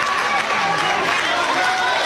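Stadium crowd at an Oklahoma versus Florida State college softball super regional game cheers for a big fielding play, a steady, dense roar of many voices and claps filling the whole moment.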